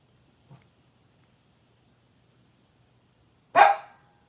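A dog indoors gives a single sharp, close bark after a very faint short sound earlier, with near silence otherwise.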